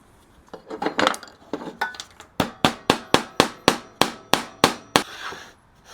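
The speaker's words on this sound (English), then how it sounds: "we're going to take our nail, put it in there, and we're going to hammer it right there" A nail is hammered into a workpiece before table saw cutting, starting with a few light taps and then about a dozen evenly spaced, sharp metallic strikes, loud and close with no talking.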